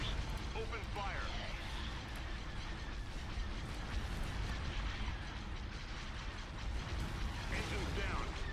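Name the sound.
video game space battle cannon fire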